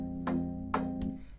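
Soft electronic EDM chords hold steady and quietly, with a few brief bright swells rising over the sustained harmony.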